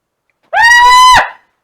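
A single loud scream from one person, a sustained high wailing cry lasting under a second that breaks off abruptly, alone in otherwise silent surroundings.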